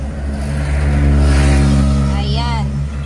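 A Suzuki Every PC high-roof minivan engine idles with a steady low hum that swells slightly as it revs, heard close and continuous, with a brief voice near the end.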